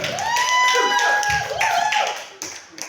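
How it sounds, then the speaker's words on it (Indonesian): A group claps together while voices call out and cheer over it, lively and close, fading slightly toward the end. "Oke, kita berikan tepuk tangan untuk kelompok perwira."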